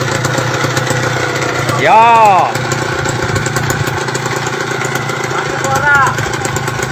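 Motorcycle engine idling with a brief throttle rev that rises and falls, followed later by a smaller rev, while people talk over the steady engine hum.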